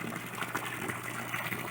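Water runs steadily into a tilapia fish tank, a continuous close splashing gush that holds the same level throughout.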